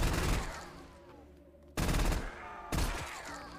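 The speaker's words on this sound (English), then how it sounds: "That's a Thompson." Thompson submachine gun firing in a Roblox zombies game: loud bursts of automatic fire in three close, sharp volleys, one after another with brief gaps, alone without talk.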